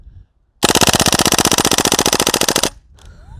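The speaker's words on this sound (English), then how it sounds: "Full auto mag, let's try that." A full-auto burst from an airsoft gun, a rapid even stream of sharp mechanical shots lasting about two seconds, close and loud, after a brief quiet gap and followed by faint handling noise.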